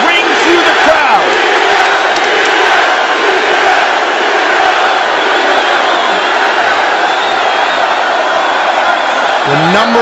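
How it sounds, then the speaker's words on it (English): A packed arena crowd at an MMA fight between Conor McGregor and Nate Diaz chants Diaz's name, a loud, continuous roar of massed voices rising and swelling throughout. "the chants of Diaz ring through the crowd"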